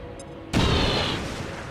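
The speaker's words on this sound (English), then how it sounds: "And then we're going to throw a grenade on those two guys" A grenade blast in XCOM 2 War of the Chosen: one sudden loud boom that bursts in and then rolls off into a sustained rumbling decay, with no voices over it.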